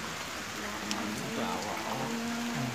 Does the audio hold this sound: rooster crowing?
no